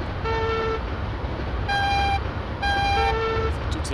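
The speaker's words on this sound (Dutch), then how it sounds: "Even toeteren voor de onbewaakte overwegen af en toe." An NS DDZ double-deck train sounds its horn in Train Simulator 2022, three distinct two-tone blasts spaced apart over a constant rumble of the running train, loud and close.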